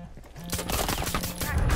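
Automatic video-game gunfire crackles in a rapid, loud burst of repeated shots, with a voice talking underneath.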